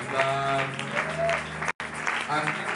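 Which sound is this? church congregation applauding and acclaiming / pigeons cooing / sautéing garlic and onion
church congregation applauding and acclaiming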